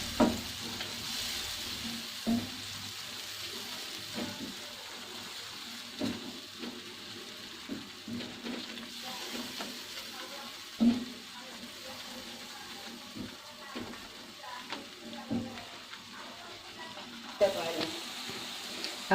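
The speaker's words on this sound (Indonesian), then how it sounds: "Kita tumis dengan api sedang ya teman-teman." Steady frying sizzle of spice paste sautéing over medium heat in a pan, with occasional clinks and stirring scrapes, close and continuous throughout.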